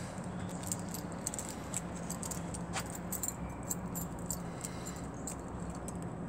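A bunch of special keys for a tinker shop workshop jangles steadily for several seconds, close and fairly quiet, with bright metallic clinks over a low background hum.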